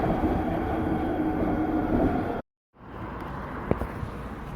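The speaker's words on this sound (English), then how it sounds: "that's two trains passing each other" Two trains passing each other, a steady broadband rush and rumble of rail traffic for over two seconds, a brief cut to silence, then continued rolling noise with a faint sharp clank.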